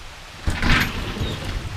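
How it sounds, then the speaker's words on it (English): Heavy rain pours down outside a house under renovation, with a new addition framed on the back; a steady broadband wash swells in intensity partway through and keeps up loudly to the end, with no talking. "it is raining like a son of a bitch right now"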